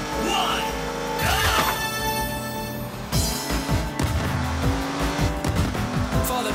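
Race cars launch off the line at the start of a race at the Boneyard track in the arcade racing game Hotshot Racing, with engines roaring up, tires squealing and revving layered close and loud throughout.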